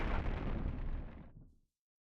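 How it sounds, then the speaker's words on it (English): A big in-game explosion blasts apart rocks in the video game ECO, a loud, booming roar that rumbles on for over a second and then cuts off abruptly into silence. "This big bang, a lot of smoke,"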